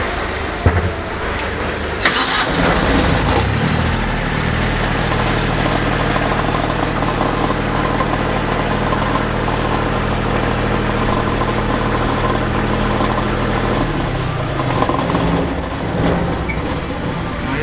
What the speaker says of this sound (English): the guys will start the engine